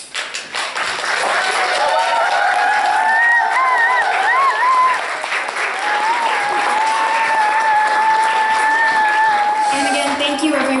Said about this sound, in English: May you please have the performers stand up one more time for another round of applause.